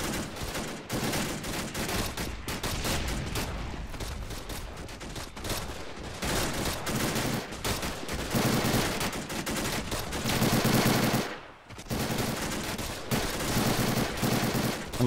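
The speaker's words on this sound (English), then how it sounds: "that mountain gun is still firing" Sustained machine gun fire and heavy mountain gun shots in a war video game's amphibious castle assault, a dense, continuous crackle of bursts and impacts with brief pauses, loud and unbroken throughout.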